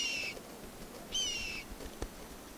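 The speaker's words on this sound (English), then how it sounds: "The golden eaglet is very hungry." Hungry golden eaglet calling in the wild, two drawn-out high-pitched cries with a short pause between, fairly close and clear over faint background noise.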